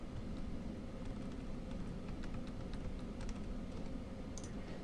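Computer keyboard keys tapped in a steady scattering of soft, quick clicks over a constant low hum, with no voices.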